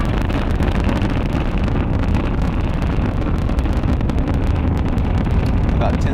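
A rocket launch vehicle carrying the AsiaSat 9 satellite lifting off, a loud steady broadband roar with heavy wind-like rumble that fills the whole stretch without letup.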